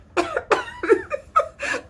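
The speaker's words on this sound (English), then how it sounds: "it's really important to cough into your elbow" A series of muffled coughs into an elbow, five or six short bursts in quick succession, close to the microphone and dampened.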